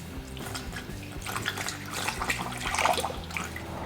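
Distilled water pours steadily into the cooling system of a 1990 Nissan 300ZX Turbo with a continuous splashing gurgle, close by, with no voices.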